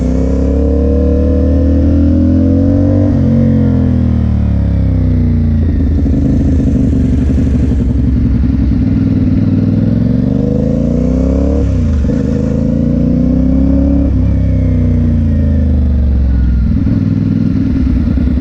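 CFMoto 450SS motorcycle engine revving up and easing off in repeated rising and falling sweeps while circling a parking lot curve, loud and close throughout.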